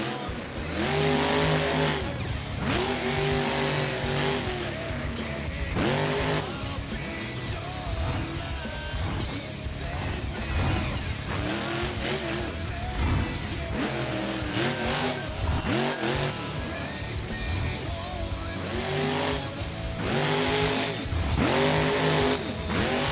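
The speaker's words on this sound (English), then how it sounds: "Rick Swanson with some great celebratory donuts there after his run" A monster truck at a Monster Jam event at Oilex Arena in BeamNG.drive revs hard while spinning donuts, with repeated rising engine roars, tire squeals and crowd-like yelling that stay loud throughout.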